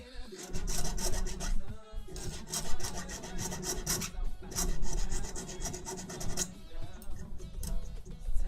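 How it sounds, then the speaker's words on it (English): Hand filing of squished-out excess plastic from a 3D printer part for a RepRap build: continuous rasping strokes, close and fairly loud, with brief pauses between passes. "It's not heavy duty filing or anything like that."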